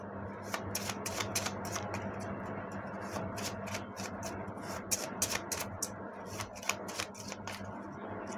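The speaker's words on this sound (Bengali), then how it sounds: "এখান থেকে দুটো কার্ড নেব আমি" Handmade blessing cards handled and drawn from a deck, giving a rapid series of crisp riffling flicks and papery snaps over a steady low background hum, close and fairly quiet.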